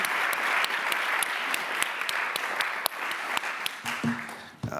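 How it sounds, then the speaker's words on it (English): A crowd at a climate policy panel discussion applauds steadily for several seconds, many hands clapping together in a dense, sustained burst that thins slightly toward the end. "Please give our panel a warm round of applause."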